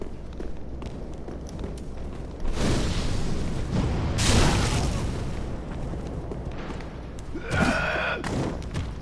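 A teammate fires at an enemy in a shooter game. Loud blasts and thumping impacts come in bursts against a steady background roar, with a sharp, bright report near the end.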